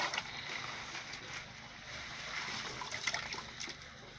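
Water is poured into a garden pond, a continuous splashing, trickling rush that holds steady throughout at moderate loudness, with no talk over it.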